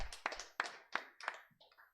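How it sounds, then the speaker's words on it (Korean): Church congregation at a Sunday service giving a short round of applause, heard as a few distinct sharp claps spaced about a third of a second apart, fading away at the end. "하나님께 영광의 박수 돌려드리겠습니다"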